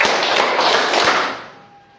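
A class of students clapping their hands together in a counted rhythm: a run of loud, crowded claps that quickly fade to quiet.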